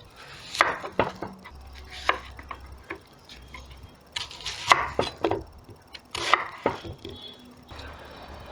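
Onion being chopped by hand with a knife on a board while preparing lula kebab, a quick run of crisp close taps in uneven bursts, some brief clusters, with no talk.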